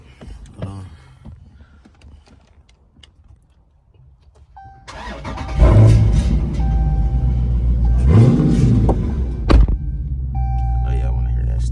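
A car with a new OEM starter cranks briefly, then its engine catches and settles into a steady, rumbling idle, close and loud after a few seconds of quiet handling noises.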